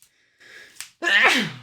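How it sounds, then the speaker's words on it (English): A single close sneeze: a short sharp inhale and catch, then a loud, breathy burst that trails off. "Oh, I had to sneeze."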